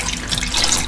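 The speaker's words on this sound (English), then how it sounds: "And pour in just enough water to cover all the ingredients." Water pours steadily into a pot over chicken drumettes and seasonings for a simmered star anise dish, a close continuous splashing stream with no talk.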